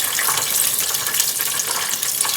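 Chicken deep frying in hot oil, a dense, steady hiss and crackle of bubbling that stays loud and even throughout with no voices.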